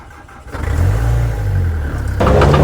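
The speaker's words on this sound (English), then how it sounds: "This excavator's absolutely hating the cold right now." Big old excavator engine cranking and struggling to catch in the cold with non-working glow plugs, a loud low rumbling churn that rises and surges toward the end.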